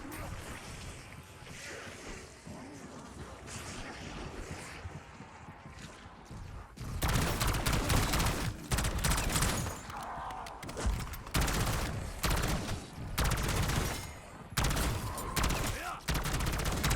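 Rapid gunfire mowing down zombies in Call of Duty Black Ops 6 zombies mode, loud dense bursts of shots in quick succession after a quieter opening stretch of game ambience.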